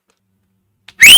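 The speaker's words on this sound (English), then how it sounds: "So he just whistled" A man gives an extremely loud human whistle, a brief, piercing tone that starts abruptly after near silence and rings out close and strong at the very end.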